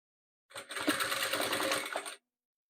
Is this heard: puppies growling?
no